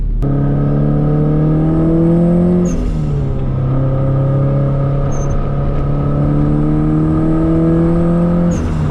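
Stock hatchback engine revving hard while drifting, a loud close drone with rising pitch that drops sharply at a gear change, then climbs steadily again, with faint tyre squeal.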